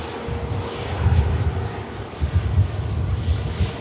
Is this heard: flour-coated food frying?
no